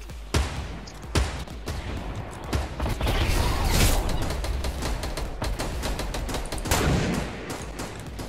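Bursts of rapid gunfire crackle throughout in the video game Fortnite, sharp repeated shots over a dense, noisy background with mechanical clanks.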